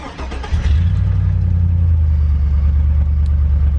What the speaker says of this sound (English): then we'll get to start the truck and see how well it runs.